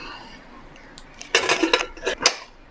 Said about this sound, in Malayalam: എന്നിട്ട് കുക്കർ അടയ്ക്കുക,